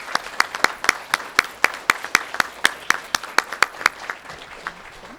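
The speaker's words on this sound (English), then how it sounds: "Let's clap for them" Scattered clapping from an audience at a fifth grade awards ceremony, a steady run of distinct, fairly close claps, likely from a small group, tapering off near the end.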